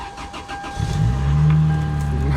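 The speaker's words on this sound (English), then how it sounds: "Oh man, cold start." A Toyota Celica GT-S cranks through a cold start and catches, its engine swelling into a loud, close, rumbling idle that holds steady, with no talk over it.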